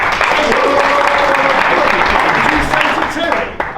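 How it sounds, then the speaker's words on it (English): Steady applause from a crowd, dense clapping that holds level for several seconds before easing slightly at the end. "Give him a round of applause."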